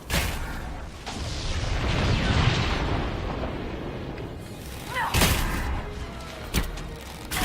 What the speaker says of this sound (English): I detonated that too early.